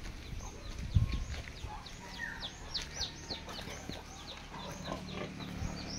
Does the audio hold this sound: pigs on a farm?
yes